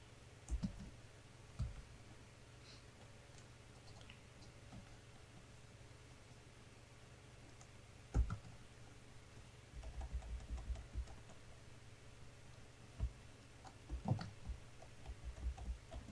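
An equation is typed on a computer keyboard into an Excel cell, heard as sparse, faint key clicks with short clusters of taps separated by pauses, close and quiet against a low hum.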